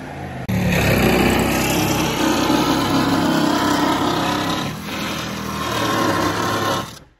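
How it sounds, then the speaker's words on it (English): Sawzall fitted with metal blades cutting through the metal wall of a refrigerated semi-trailer being converted into a tiny house, a loud continuous buzzing rasp that starts abruptly, runs steadily, dips briefly and stops near the end. "he just took a regular sawzall with some metal blades"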